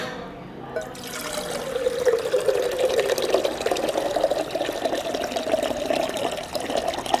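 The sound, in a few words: water being poured into an empty milk tin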